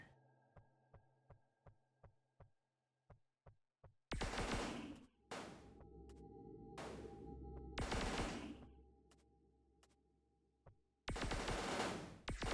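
Submachine gun fire in the shooter game REDO: a run of soft rhythmic clicks gives way to loud, close automatic bursts that come in several separate volleys, each broad and harsh, with short gaps between them.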